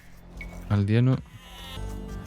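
Sheep in the Age of Empires 2 game give one short, close, wavering bleat in the middle, over a steady hum from the game.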